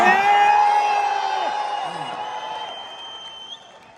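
A large crowd applauds and cheers loudly at a New Year company event in India, with whoops and yells that gradually fade into scattered clapping.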